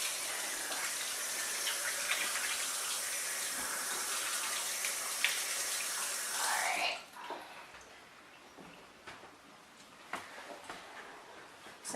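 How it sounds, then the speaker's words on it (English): Kitchen tap running hard into a sink while something is rinsed, a loud steady gush for about seven seconds that then cuts off, followed by quieter clinks and handling sounds. "let me just rinse this off"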